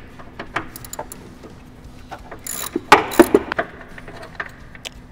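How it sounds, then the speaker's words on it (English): A hand ratchet clicks in short irregular bursts while loosening a 13 millimeter bolt on a Chevy Impala during water pump work, near and fairly quiet, with some metallic clinks. "Now we're going to remove this 13 millimeter bolt right here."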